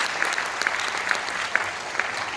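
An indoor audience applauds at a business seminar, giving steady, dense clapping throughout with a few sharper individual claps standing out, and no voices heard over it.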